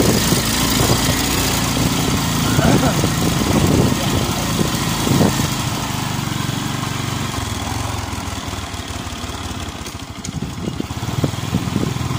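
A motorcycle engine runs steadily close by in a rural village during a fiesta trip, a continuous low rumble with a few irregular bursts, while people talk over it.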